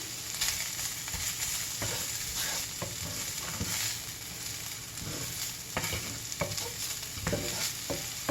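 Canadian bacon for pizza fries and is stirred in a pan, a steady sizzle with scrapes and small knocks of the utensil, close and even, with no talk.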